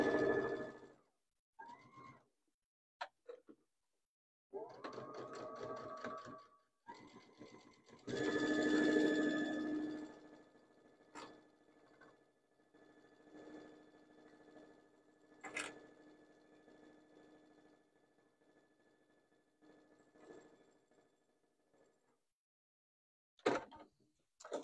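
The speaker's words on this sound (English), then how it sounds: "We're going to go ahead and sew a quarter inch seam again." A sewing machine stitches a quarter-inch seam in several separate bursts, each a short whirring run with pauses between, fairly close and alone with no talk.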